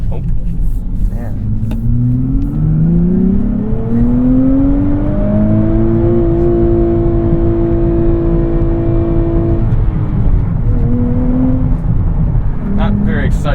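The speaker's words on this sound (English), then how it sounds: "Not very exciting of a rev limiter there." A 2023 Nissan Z with a six-speed manual revs steadily up to its rev limiter, the engine tone climbing smoothly and then holding flat at the cutoff before dropping and blipping again, loud and close from inside the cabin.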